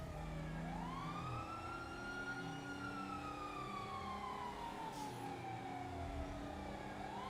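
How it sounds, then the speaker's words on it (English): Ambulance siren wailing in a roleplay driving video game, a steady rising and falling electronic tone heard continuously and loud over engine and road rumble throughout. "I'm not supposed to be driving around with my sirens and my lights on"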